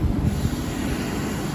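A train at a Berner Oberlandbahn station in Switzerland rumbles steadily nearby, a low continuous drone with wind buffeting the microphone, no voices.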